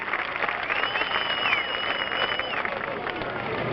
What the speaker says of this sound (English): What about a great round of applause for a great driver from Wolcott up there in God's country.